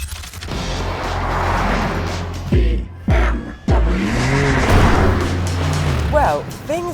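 A BMW M2 with a manual gearbox drives with a steady engine drone, rising and falling as it revs and shifts, a couple of sharp tonal sweeps midway, and talking over it.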